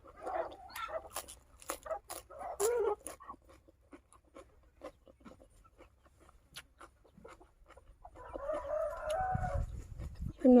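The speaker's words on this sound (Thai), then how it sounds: "ไก่มันกวน" Farmyard chickens cluck in bursts and a rooster gives a loud crow near the end, amid a steady patter of short clicks and knocks, with no talking.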